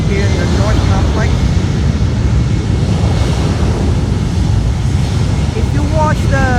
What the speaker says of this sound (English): United Airlines Flight 1173 Heavy heading to Newark on a 767-400ER, now rolling down runway 8 here in the North Complex.